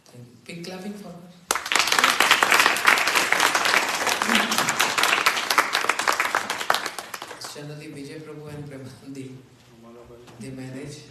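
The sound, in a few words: audience applause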